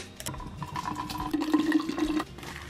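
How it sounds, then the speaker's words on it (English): Water is poured into the Prolon water bottle from the fasting kit, filling with a steady gurgling splash whose pitch climbs as it fills, then cuts off abruptly. "that's all I'm gonna pour into the Prolon water bottle that they give you"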